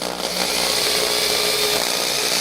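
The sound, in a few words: power drill drilling through a part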